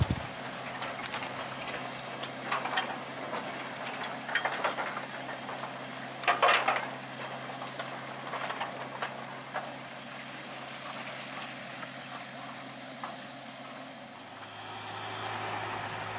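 The oldest locomotive of the PG Kedawung sugar mill, with worn wheels, runs hauling empty lorries, giving a steady mechanical rumble and irregular clanking, clattering rhythm at moderate distance.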